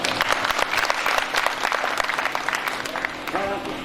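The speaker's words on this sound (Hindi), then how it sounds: "मैं चाहती हूँ कि एक बार आप अपने सम्मान में तालियां बजाएं।" A poetry recital audience breaks into dense, loud clapping that runs throughout, with a few voices faintly audible toward the end.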